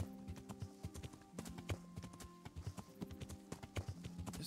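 Horse hooves clip-clop steadily on the ground in the medieval game Kingdom Come: Deliverance, a close, rhythmic run of hoofbeats over a faint ambient background.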